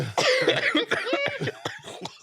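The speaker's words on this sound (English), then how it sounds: "I'm coughing." Several close, sharp coughs in quick succession, loud and harsh, with a bit of throat noise between them.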